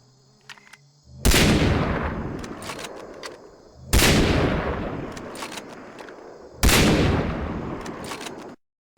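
Three heavy suppressed M-700 sniper rifle shots from Far Cry 3, each a sharp muffled crack with a long decaying boom, spaced a few seconds apart and loud with no talk.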